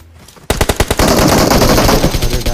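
Rapid automatic gunfire in a mobile shooter game breaks out after a brief quiet start, sustained dense bursts filling the rest of the clip, loud and close.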